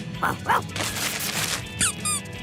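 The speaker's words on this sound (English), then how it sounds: "It's a squeaky toy." A squeaky toy squeaks a few times in short, high bursts, mixed with yips and high cartoon voices in a children's animated birthday scene.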